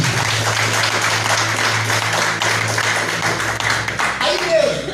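Church congregation clapping during a Portuguese-language worship service, a steady, dense patter of many hands over a low sustained hum, with voices mixed in throughout.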